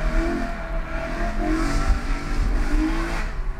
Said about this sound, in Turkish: Gazlıyor arabamla ya.